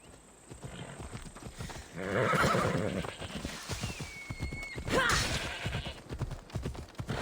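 Horse in Assassin's Creed Odyssey whinnying and neighing with hoofbeats clopping along at a gallop, loud and close, over game ambience and effects.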